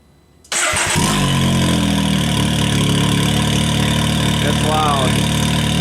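A Can-Am X3 Evo with a Shocker exhaust starts up after a moment of near silence, firing with a sharp burst and then settling into a loud, steady, rumbling idle close by.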